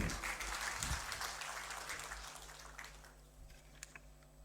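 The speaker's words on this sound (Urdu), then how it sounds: "ایک بار زوردار تالیاں ہو جائیں." An audience at a political speech gives a round of applause, a dense wash of clapping that starts full and gradually tapers off toward the end.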